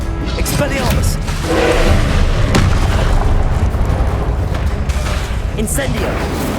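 Spell blasts and booming impacts fill a fast Hogwarts Legacy duel with dense, continuous rumbling bursts and crackles, loud throughout, with a voice calling out spells over the combat.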